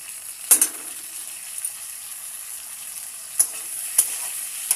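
Chopped tomatoes go into a pan of browned onions, giving a steady close sizzle punctuated by a few sharp spatula clicks and scrapes against the pan, with no voices.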